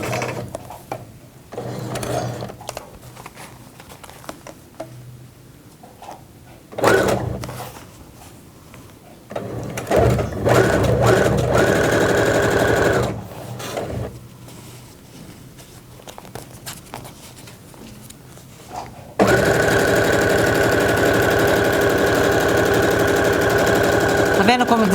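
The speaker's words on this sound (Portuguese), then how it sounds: "Não precisa ter medo de costurar plástico, porque ele vai bem, tá?" A sewing machine with a standard presser foot stitches plastic in bursts of rapid mechanical whirring, the longest run at the end, with someone talking between and over the stitching.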